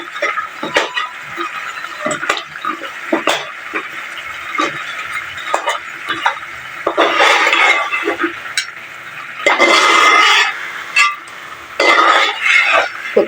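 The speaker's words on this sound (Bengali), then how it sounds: "মাছটা এরকম ভাবে আমি কষাই নিব" Fish sautéing in a pan for Bengali fish pulao, with a spatula scraping and clinking against the metal in irregular strokes and two longer bursts of sizzling stirring, close and fairly loud.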